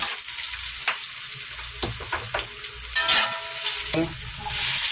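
Onions sizzle steadily in a hot pan, the first step of a bagoong alamang sauté, with a few scraping stirs and crackling bursts over a continuous frying hiss; no voices.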